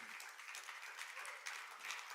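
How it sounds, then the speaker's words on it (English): Church audience applauding a pastor welcomed onstage at a men's event, a steady dense wash of many hands clapping that holds throughout at moderate distance, with faint voices mixed in. "Let's keep clapping, keep clapping."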